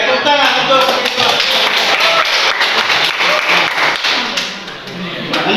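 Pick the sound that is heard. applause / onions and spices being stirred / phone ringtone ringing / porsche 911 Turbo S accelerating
applause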